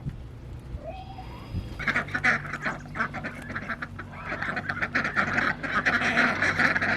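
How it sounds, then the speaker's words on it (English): A flock of ducks quacks loudly and close by in a muddy, wet March farmyard, the calls rising into continuous overlapping chatter after a quieter start. "Our duck clan, they're enjoying this soppy mess."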